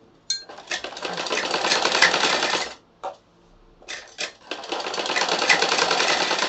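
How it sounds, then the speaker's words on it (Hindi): A sewing machine stitches along the edge of a fabric bias strip in two long whirring runs with a short stop-start burst between, close and steady. "बिल्कुल किनारे किनारे की सिलाई लगाएंगे।"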